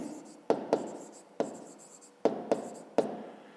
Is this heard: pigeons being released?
no